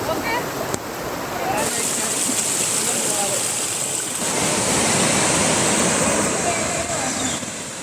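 A waterfall near Munnar gives a loud, steady rush of falling water, close and continuous throughout.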